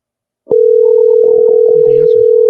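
A telephone ringback tone on an outgoing call, a loud steady tone running continuously after a sudden start, with a person talking faintly in the background.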